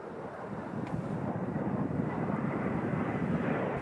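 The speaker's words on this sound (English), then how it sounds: "Now Mark Peterson coming back in very rapidly will execute the 4-point roll" An aerobatic airplane flies a four-point roll at the Hill Air Show, a steady broad engine roar at moderate distance, with some wind noise and no talk.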